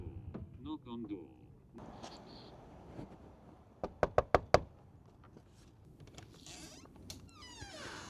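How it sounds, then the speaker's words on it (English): Four sharp knocks on a door in quick succession during a delivery drop-off, loud and close, with footsteps and faint rustling around them. "Knock on door."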